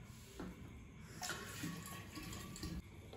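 Water running into a bottle, a steady liquid pour that continues throughout, close by with no talk over it.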